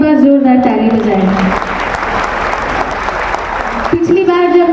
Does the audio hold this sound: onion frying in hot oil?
no